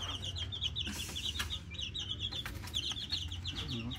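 Twelve-day-old Miner Blue x McLean gamefowl chicks peep in rapid repeated high chirps close by, a busy flock chattering over a low rumbling background.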